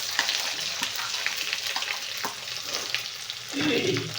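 Onions and vadagam fry in hot oil in a pan, giving a soft continuous sizzle with light stirring scrapes, a brief louder burst of sizzling near the end, and no talking.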